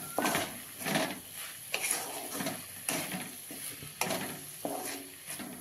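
Bottle gourd and lentils cook in a pan over a low flame, with a soft sizzle under repeated stirring scrapes and spoon knocks at an irregular rhythm.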